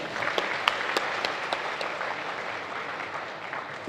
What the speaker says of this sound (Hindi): दीदी के लिए जोरदार तालियां।